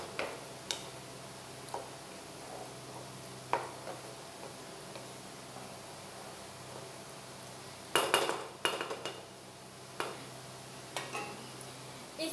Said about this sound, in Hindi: इसको थोड़ा सा चला देंगे ताकि सारा मसाला भिंडी अब्सॉर्ब कर ले।